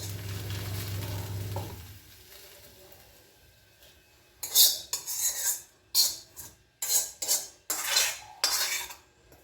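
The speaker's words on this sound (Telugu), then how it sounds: "స్టవ్ ఆపేసి ఇందులో తీసేసుకున్నాను. ఈ బౌల్లో తీసేసుకుంటాం." Cooked fenugreek leaf chutney ingredients are scraped from a pan into a bowl after the stove is switched off, giving a series of sharp metal spoon scrapes and clinks against cookware, close and fairly loud, after a quiet start.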